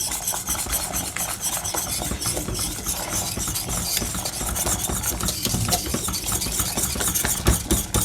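Steady scraping and swishing of a spoon stirring homemade dessert cream in a pan while egg yolk is poured in, continuous and close, with no talk.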